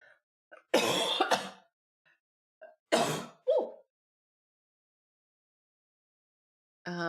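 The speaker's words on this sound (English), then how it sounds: "Sorry for the coughs." Several separate bursts of coughing and throat clearing, close and fairly loud, broken by stretches of silence, with a faint breath at the end.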